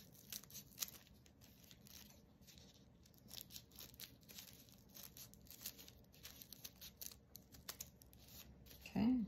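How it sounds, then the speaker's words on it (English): Scissors snip and rustle through tissue paper, rounding the ends of a handmade tissue flower, with a run of soft close crinkling cuts and brief speech at the end. "on the ends, you just kind of cut that rounded like this"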